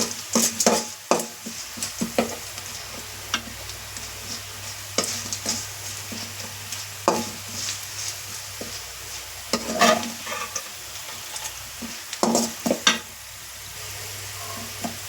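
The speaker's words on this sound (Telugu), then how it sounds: "లైట్ గోల్డెన్ కలర్ వచ్చేంత వరకు వేయించుకోవాలి" Capsicum pieces sizzle in a little oil in a pan until light golden, with a constant low hiss under frequent scraping stirs and light clinks of utensil against the pan, close by and with no talk.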